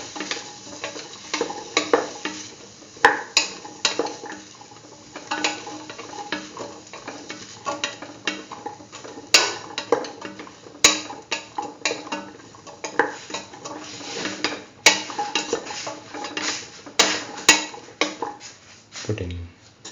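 A spoon stirs and scrapes through a potato and soya chunk stew in a metal pot, steady clinking and scraping with a soft sizzle underneath, continuous and close for the whole stretch.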